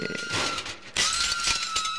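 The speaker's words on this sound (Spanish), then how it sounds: "Mirá, los, vi los vidrios que rompió." Window glass shatters during a street party outside a radio station, a bright crash of breaking panes followed by a second burst of tinkling shards, with no speech over it.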